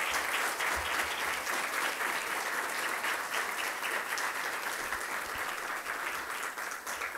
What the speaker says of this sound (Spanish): vamos a brindarle un fuerte aplauso a don Felipe Osterling Parodi